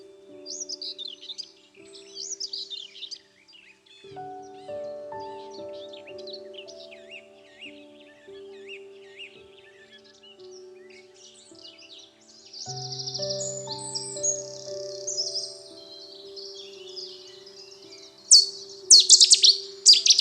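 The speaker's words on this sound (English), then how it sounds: "at least the dunnock and common whitethroat were a little bit more obliging" Dunnock and common whitethroat singing outdoors: a run of thin, high chirps and scratchy warbling phrases, fairly close, over a steady low tonal hum, with brighter, busier bursts toward the end.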